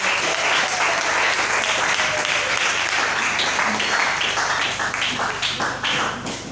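A church congregation applauds together in sustained, dense clapping that fills the whole stretch, loud and close with a faint voice underneath.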